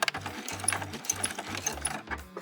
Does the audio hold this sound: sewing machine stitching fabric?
yes